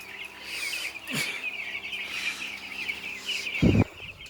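Broiler chicks cluck and chirp steadily in a poultry barn, with a constant high-pitched chorus and a louder low clucking burst near the end.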